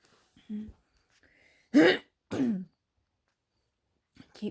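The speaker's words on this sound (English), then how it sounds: "clearing my throat. I apologize about that." A person clears their throat twice in quick, forceful bursts, close by, with brief soft sounds before and a faint noise at the end.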